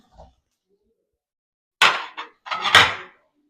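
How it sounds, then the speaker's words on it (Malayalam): Tomatoes are stirred and sautéed in a pan: a spoon clanks and scrapes against the metal in a few short, close bursts, with near silence between them. "എല്ലാം നന്നായിട്ട് ഇളക്കി വഴറ്റിക്കൊണ്ടിരിക്കുവാണേ"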